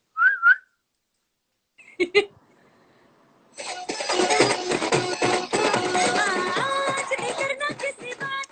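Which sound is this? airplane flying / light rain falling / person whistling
person whistling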